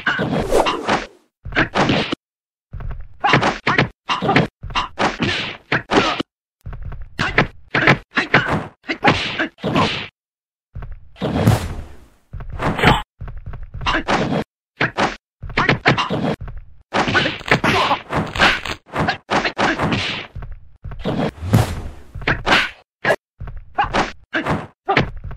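Sharp whacks and thuds from a martial arts duel in the Shaolin vs Wutang fighting game, Wu Shu with a bamboo fan against White Brow with an iron smoking pipe, landing in rapid clusters of blows with brief pauses between exchanges.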